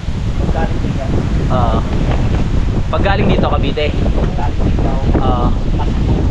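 Strong storm wind in the Philippines buffets the microphone in a constant roar, with people talking and exclaiming over it throughout.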